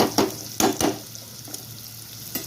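Radish pieces frying in a pan for sambar, a soft continuous sizzle broken by a few sharp spoon strokes and scrapes near the start, then quieter frying with one more knock at the end.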